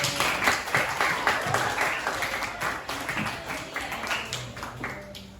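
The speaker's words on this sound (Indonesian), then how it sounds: "Boleh tepuk tangan untuk Lutfi." Students in an Indonesian classroom clap for a classmate, a scattered patter of hand claps that fades unevenly over several seconds, with some murmuring voices mixed in.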